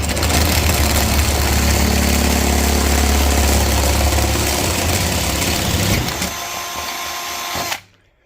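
A power tool enlarges a hole in a Land Rover Defender 90, a loud steady droning whir running continuously, easing slightly near the end before cutting off abruptly into silence.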